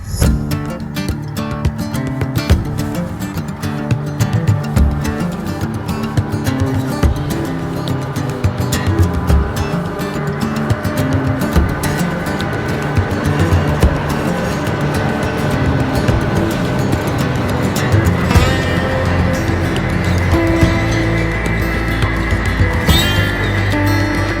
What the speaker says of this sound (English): To get started, the crew's going to fire up the locomotives and build the outbound train for Asheville